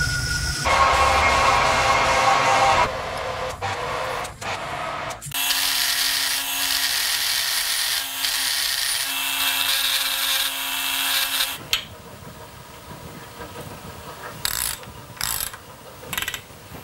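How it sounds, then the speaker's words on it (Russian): A reamer enlarging and drilling through a hole in a handbrake part, with loud whirring machine bursts broken by pauses and clanks, then quieter handling and taps at the end. "сейчас надо будет райбером увеличить отверстие вот здесь, просверлить насквозь"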